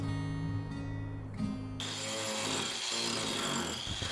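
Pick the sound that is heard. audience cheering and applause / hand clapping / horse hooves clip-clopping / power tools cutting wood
power tools cutting wood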